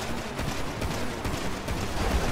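Dense, continuous video game gunfire crackles throughout, rapid overlapping shots forming a steady barrage with no clear pauses.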